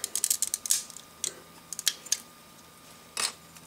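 Small plastic LEGO pieces being popped off the back of a 1950s-style house build, giving a scatter of sharp little clicks and snaps in quick irregular bursts, close and fairly quiet, with a short pause before a final cluster.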